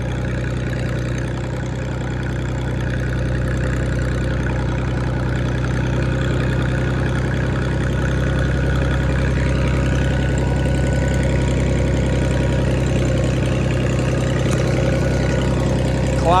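A large gas-powered International truck engine idling, a steady loud low rumble throughout with no talking.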